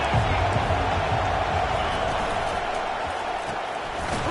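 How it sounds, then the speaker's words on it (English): Dense stadium crowd roar in the football video game NCAA 25, Alabama vs Texas, a continuous wash of cheering and murmur with occasional thuds, mixed with faint commentary speech. "This crowd bringing the energy and noise early"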